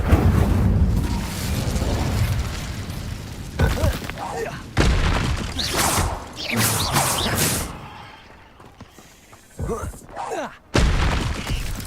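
In Hogwarts Legacy combat, an Incendio fire spell sets off a string of booming, crackling explosions and smashing impacts, with sharp bursts and quieter gaps between them.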